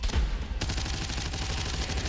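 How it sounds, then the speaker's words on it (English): Fragmentation grenades exploding in the video game Abyssus, one heavy booming blast followed by a dense, continuous rumble of explosive noise throughout. "I'll start chucking my fragmentation grenades at him"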